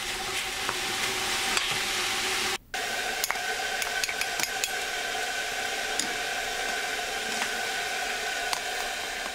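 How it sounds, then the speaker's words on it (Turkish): Beef cubes sauté in a pot, a loud continuous sizzle with scattered pops and crackles and the scrape of stirring throughout, with no voices. "Tencereme dana kuşbaşı etlerini alıyorum. Şöyle bir suyunu çekene kadar kavuruyorum."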